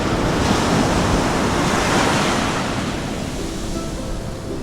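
Shore break waves crash and wash up on a beach at Nawiliwili, Kauai, a loud, close, continuous roar of surf with wind that eases slightly toward the end, no voices.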